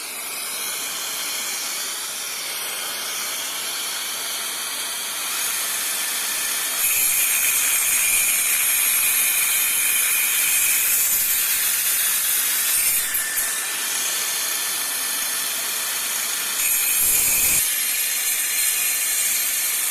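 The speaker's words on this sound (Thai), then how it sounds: "เดี๋ยวผมมาตัดไม้ให้ชมกันก่อนนะครับ" A DeWalt DCS571 cordless circular saw cuts through wood with a dust extractor hooked up. It makes a steady, loud, hissing whine that swells partway through and holds to the end, with no talking.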